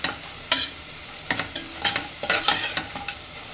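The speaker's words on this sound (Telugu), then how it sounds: "మూత పెట్టకుండా ఇలాగే వీటిని వేయించుకోవాలి. ఇదిగోండి, ఒకసారి చూడండి, ఉల్లిపాయలు ఇలా అయితే చక్కగా ఎర్రగా వేగాలి." Onions frying uncovered in an open pan for mutton keema biryani, with scattered near scrapes and stirring strokes over a soft, steady sizzle.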